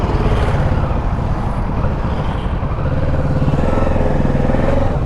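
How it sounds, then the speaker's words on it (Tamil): Kawasaki Ninja 650 motorcycle ridden on a road in Coimbatore, with a steady, loud engine drone and wind rumble holding throughout, close to the rider, with no talking. "வேற மாதிரி இருக்குது வண்டி, சூப்பராக இருக்குது ஓட்டுறதுக்கு."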